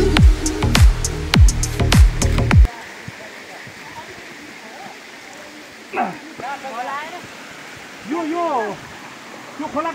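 A stream fed by a hillside spring rushes in a steady, continuous wash of flowing water after a burst of loud handling noise at the start, with voices talking over it.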